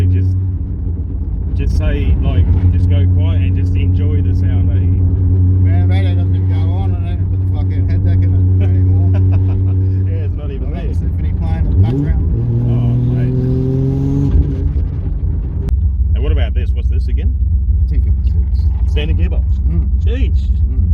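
A 1000 rwhp Ford BF Falcon with a Tornado engine drives hard on standard gears with a short shifter, its deep engine note loud and close, rising through revs and a gear change, with people talking over it.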